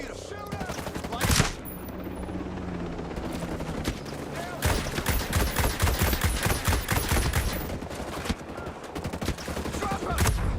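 Rapid automatic gunfire from the video game Ghost Recon Breakpoint, with dense bursts and scattered single shots that grow busier midway, loud and close, mixed with game background sounds.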